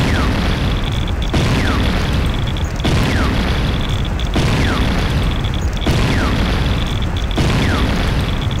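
A Tiberium Refinery explodes in Command & Conquer: Renegade, a loud, sustained roaring rumble with a burst that repeats about every second and a half, heavy and close with no talking.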